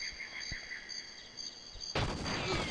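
Gunfire in GoldenEye on the Nintendo 64, with a sudden loud burst of shots breaking in after a stretch of quiet, droning game ambience with a few faint thumps.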